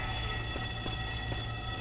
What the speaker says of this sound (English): There's an alarm going off if you hadn't noticed